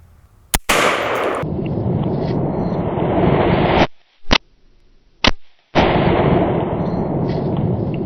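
A .458 SOCOM rifle fires at a Boston butt pork shoulder, a single loud sharp crack followed by a long rumbling roar that is abruptly cut and repeated in clipped segments.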